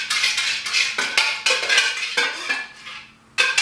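Candle wax being stirred in a container without fragrance gives close, irregular scraping and clinking strokes, a utensil knocking against the sides in quick bursts with a short pause near the end.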